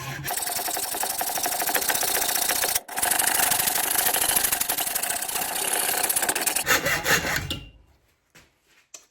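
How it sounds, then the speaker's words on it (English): A hacksaw cuts through a metal speedometer sleeve in quick, even rasping strokes, close and steady, with a brief pause midway, then stops and a few faint knocks follow. "I'll just use a hacksaw."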